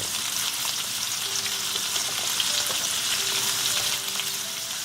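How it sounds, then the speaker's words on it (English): Shrimp frying in butter and oil for a prawn and potato curry, a steady crackling sizzle close to the pan with faint stirring and a few thin tonal hums beneath, no voices. "Cooking shrimps all together for 2 minutes. And we're going to use the butter and the oil for our tadka."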